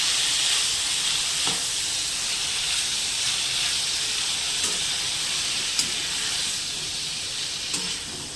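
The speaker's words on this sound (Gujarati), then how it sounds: "હવે આને થોડી વાર આપણે એને સોતે થવા દઈશું." Tomatoes and whole spices sautéing in a hot pan on a home stove, a steady bright sizzle and hiss that runs unbroken with a few small pops and stirring clicks, close and alone with no talking.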